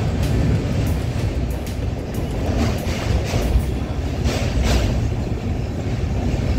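A passenger express train from Kolkata pulls into Varanasi station with a steady loud rumble of wheels and carriages, and a rhythmic clatter over the rail joints. The sound is heard from inside the train.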